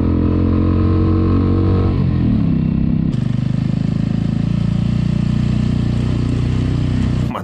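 Cleveland CycleWerks Ace Scrambler 250 motorcycle engine idling and running at low revs, a steady, loud, close throb that shifts pitch slightly partway through, with no talking.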